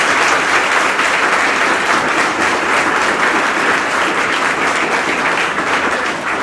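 Loud, sustained applause from a crowd welcoming a Teacher's Day speaker at a coaching institute, steady clapping throughout with no voices above it.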